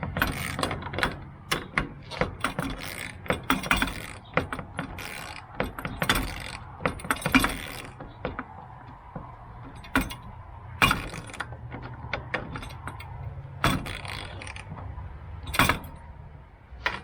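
A hand ratchet tightening Rotopax mount bolts on a 2020 Jeep JL, with repeated clicking bursts and metallic clanks at close range, stopping and starting in an uneven rhythm with no talking.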